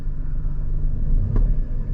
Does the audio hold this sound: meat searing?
no